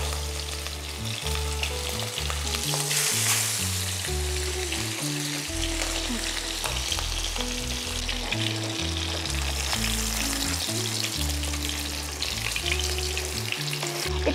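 Four shrimp frying in a small amount of hot oil in a pan, a continuous bright sizzle and crackle that holds steady throughout, with background music playing beneath it.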